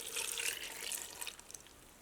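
About two glasses of water pour into a curry for the pressure cooker, a soft splashing gush that tapers into faint trickles and drips, quiet and without talk.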